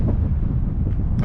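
A strong gust of wind buffets the microphone outdoors, a loud, continuous low roar lasting about a second with no one speaking.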